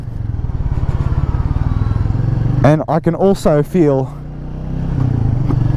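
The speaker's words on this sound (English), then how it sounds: "this is a far more refined motorcycle than those classic and bullet models" A single-cylinder motorcycle engine, smooth and refined with 27 Nm of torque, thuds in a steady, rapid low pulse while being ridden, close and loud throughout, with a voice talking over it briefly midway.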